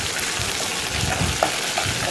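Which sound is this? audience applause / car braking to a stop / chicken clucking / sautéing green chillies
sautéing green chillies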